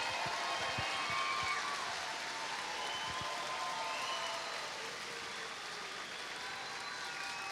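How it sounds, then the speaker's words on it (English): Steady applause from a large crowd at a university commencement ceremony, dense clapping filling the space continuously for several seconds without letting up. "Give them a round of applause."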